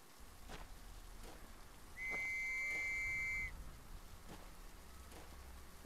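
A whistling item in the video game Trenches that attracts enemies gives a single steady, clear whistle tone lasting over a second, heard over a quiet, dark ambience with faint thuds.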